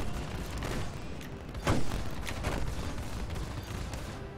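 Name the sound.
enemy ship gunfire in Star Citizen video game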